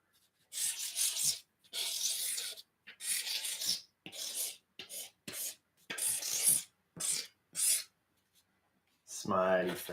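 A pen scratches across the back of a Band-Aid in a run of short, close, raspy strokes separated by brief pauses, with a voice cutting in briefly at the end.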